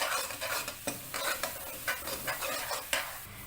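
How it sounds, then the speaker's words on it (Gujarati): A spoon stirs cumin seeds in a hot pan for spicy Gujarati ghughri, with repeated scraping strokes in a steady rhythm over a soft sizzle, close and fairly quiet. "અને સરસ હલાવી લેશું."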